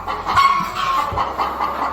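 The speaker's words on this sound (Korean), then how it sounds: "그럼 얘네들은 일반 닭이죠?" Native Korean hens on a laying-hen farm cluck and murmur close by in short, uneven bursts, with no talk over them.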